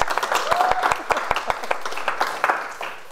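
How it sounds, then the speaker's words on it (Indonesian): Studio audience at a comedy roasting show claps in a brief burst, individual sharp claps audible over crowd noise and some talk. "Tepuk tangan dulu dong."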